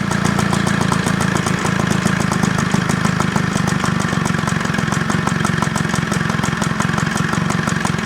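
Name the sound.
lawnmower engine running at idle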